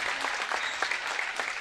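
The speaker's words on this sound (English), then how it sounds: "getting a big round of applause" Spectators applaud a senior player on a girls' high school basketball team during a district tournament game, a dense, even round of clapping filling the gym throughout.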